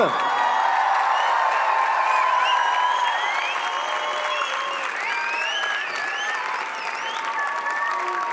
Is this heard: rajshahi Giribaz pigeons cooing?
no